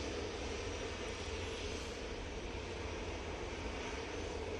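A Lufthansa CityLine airliner at Manchester Airport produces a steady, quiet engine rumble and broadband roar that holds evenly throughout, heard from a distance with no voices.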